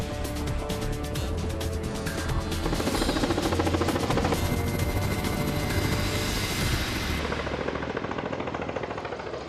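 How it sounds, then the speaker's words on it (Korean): A helicopter approaches to land at a mountain site 1,230 m up on Jangansan, its loud, dense rotor chop and engine roar continuous and close throughout, easing slightly near the end. "변경된 장소로 헬기 진입을 시도한다"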